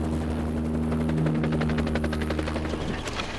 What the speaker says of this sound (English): This is the chopper's tail rotor.